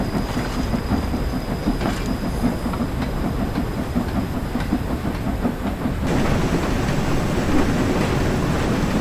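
A steam train rolls through deep snow in Train Sim World, a continuous loud rumbling run with rhythmic clattering wheels and a steady hiss, swelling slightly louder partway through.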